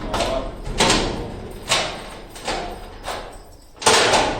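Shop doors at Liberty Chowk in Lahore are pulled shut one after another, with five rough rolling bursts of scraping and rattling, each swelling and fading, the last one loudest, over steady street noise.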